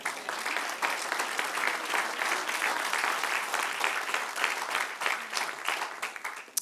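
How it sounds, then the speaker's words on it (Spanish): Steady applause from a church congregation during a Bible doctrine class, dense and continuous for several seconds at moderate distance. "Dale un aplauso al Señor."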